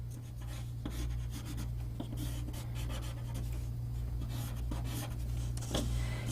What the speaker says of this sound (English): And I erase the lines I don't want.